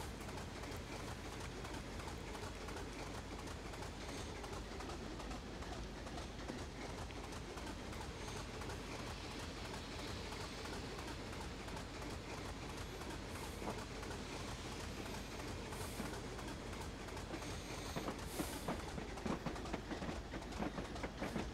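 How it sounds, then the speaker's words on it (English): A Class 25 diesel locomotive and its train run along the Weardale and Teesdale line, a long steady rumble of wheels and rails with faint clickety-clack, heard from a distance and fairly quiet throughout. "Trains, yay!"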